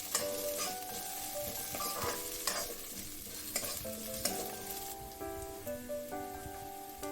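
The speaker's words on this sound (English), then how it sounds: "I'm going to add the potatoes also and fry it for some time" Cubed potatoes fry in a pan with a steady, rain-like sizzle and occasional stirring scrapes, while soft background music with sustained tones plays throughout.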